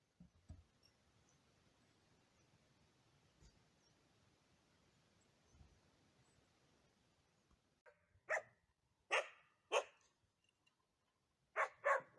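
Dogs at a Khanty family camp in the forest bark in a burst of about six loud, sharp barks near the end, after a long stretch of quiet ambient hush.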